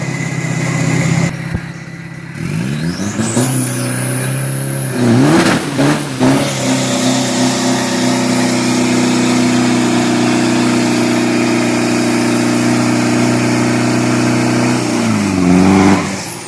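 A 1500 kg turbocharged 3.0 street truck on radial tyres launches at a drag race. The loud, close engine revs up with sweeping pitch rises through gear changes, then holds a long sustained high-rev drone before easing off.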